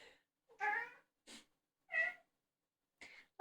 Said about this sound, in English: I also have a very happy cat in the room that's currently going, ow, ow, ow